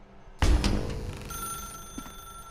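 A telephone in The Stanley Parable video game rings with a sudden loud bell, followed by a lingering electronic tone and a faint second chime.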